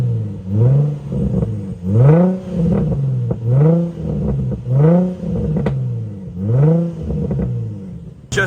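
A Nissan 350Z with a new plenum spacer revs repeatedly, about six rising-and-falling throttle blips in a steady rhythm, loud and close with no talking.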